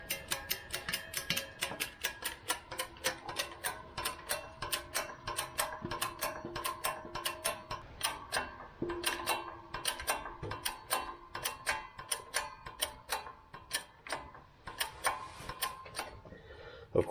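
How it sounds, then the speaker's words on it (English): Shop press pushing out the crank pin of a single-cylinder crankshaft, a close, steady run of rapid ratcheting clicks and mechanical ticks with tonal creaks, no voices. "it should work just fine for pressing out this crankshaft pin. Alright, I got this set up in the press."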